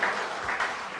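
Applause from a church congregation during a Sunday afternoon service, a steady wash of many hands clapping at moderate level throughout, with no voices over it.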